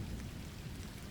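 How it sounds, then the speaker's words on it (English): Steady rain drums on a car roof during a drive along a secondary road, a dense, even patter with no voices. "The sound of water hitting the roof of my car was the only thing that accompanied my journey"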